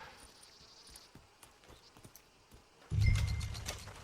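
Horse in Red Dead Redemption 2, heard as soft, scattered hoof clops over faint insect ambience, then a sudden loud, low snort or whinny near the end.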